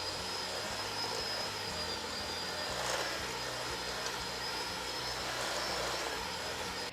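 An electric mixer whips cookie batter in a bowl, giving off a steady, continuous whirring drone throughout, fairly loud, with no voices.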